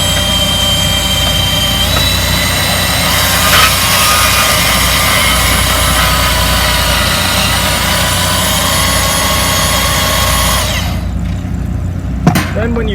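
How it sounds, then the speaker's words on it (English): Portable trigger-operated bandsaw running with a loud, steady motor whine and drone, continuing for about eleven seconds before winding down, with a sharp knock near the end. "you're able to use two hands on the bandsaw, pull the trigger"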